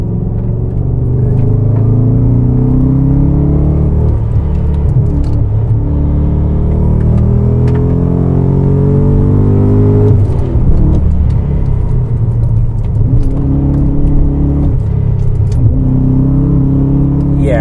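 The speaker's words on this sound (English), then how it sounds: "God, I love that V8 noise." A supercharged 630 hp V8 in a BMW E39 M5 revs hard from inside the car, its deep rumble climbing in pitch through the gears, dropping, then rising again.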